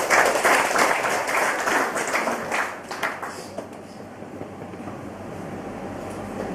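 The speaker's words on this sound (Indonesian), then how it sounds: "Tepuk tangan buat Tuhan Yesus." A congregation claps for Jesus during a prison ministry service at a women's prison: dense, loud applause at first that gradually thins and fades into a quieter room murmur.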